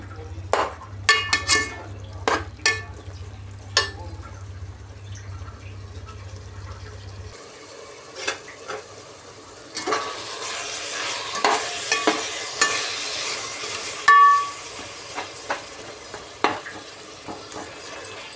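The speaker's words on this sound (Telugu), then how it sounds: "ఒక 5 నిమిషాలు బాగా టమాటాలు మగ్గాక మగ్గేంత వరకు ఉడికించుకుందాము" Tomatoes and onions fry in a pan for biryani, with scattered stirring scrapes and clinks followed by a louder stretch of sizzling.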